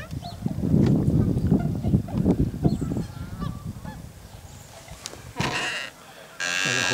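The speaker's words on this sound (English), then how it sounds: "They're buffleheads, tundra swans, and geese." Tundra swans, geese and bufflehead ducks feeding on scattered corn call in a dense overlapping chorus of honks and bleating cries, loud and continuous at first, thinning later, with a few sharper bursts and faint talk in the background.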